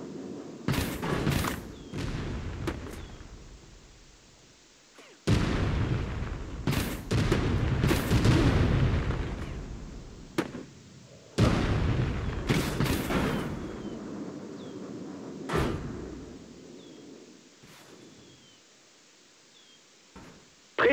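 Repeated heavy booms and blasts of gunfire-like cannon shots from a war video game, some loud and close, others fainter, in irregular bursts over a low rumbling background.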